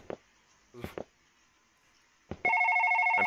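Phone ringing: after a few brief indoor noises, a loud electronic ring with steady bright tones starts abruptly and continues through the end.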